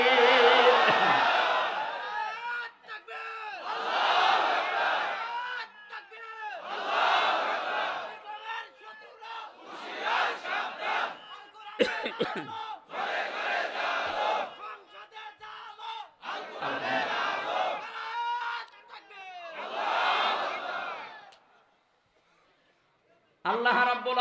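Large crowd at an outdoor Islamic waz sermon gathering in Tangail roars a loud unison chant in repeated bursts, answering a takbir call, each shout swelling and fading with short gaps between.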